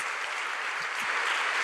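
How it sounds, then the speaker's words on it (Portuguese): Brief, steady applause from a church congregation, moderately loud and even, with no speech over it. "Vamos aplaudir o Senhor,"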